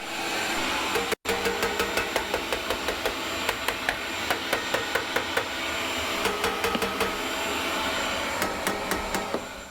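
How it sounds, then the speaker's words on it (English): A shop vac runs with a steady, loud broadband roar while cleaning out the exhaust of a Harman P series pellet stove. Sharp knocks and clicks repeat through the roar, and there is one brief dropout near the start. "I can take my shop vac back out"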